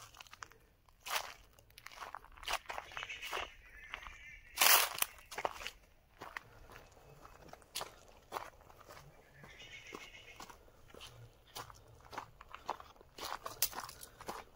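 Footsteps crunch through dry fallen leaves on a stony forest path at Bardi Pahar in Bankura, with irregular close steps, one louder rustling burst, and faint birds in the quiet woods.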